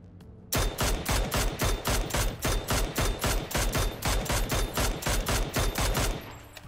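Rapid automatic gunfire from the battle royale video game PUBG, a loud sustained burst of evenly spaced shots lasting several seconds before cutting off.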